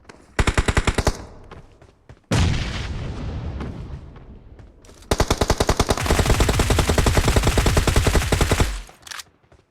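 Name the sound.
gunfire in a video game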